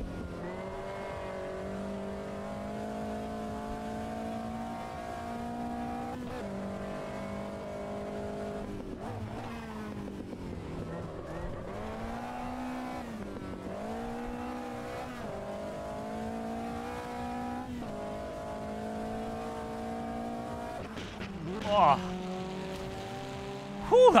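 A race car engine in Automobilista 2 drones steadily through gear changes, rising in pitch and then dropping on downshifts, with brief tyre squeal near the end and someone talking over it.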